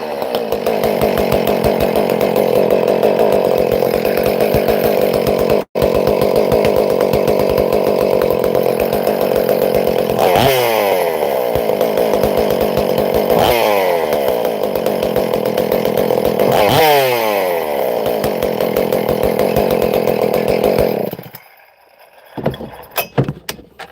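A Husqvarna-style 576 chainsaw with an adjustable carburetor runs loud and close at a steady idle, a constant two-stroke drone with brief throttle blips, then cuts off near the end.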